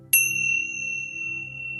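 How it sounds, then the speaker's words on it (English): A single gentle meditation chime rings out once, a clear bright ding that sustains and slowly fades over a faint low hum, with no voices present. "We will keep track of time for you and ring a gentle chime"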